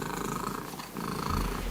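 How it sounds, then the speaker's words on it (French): Steady, close rumbling purr from a young English female cat that set a world record for loudest purring, continuous with a brief dip midway and no voices. "Cette jeune chatte anglaise vient de battre le record du monde de ronronnement le plus fort."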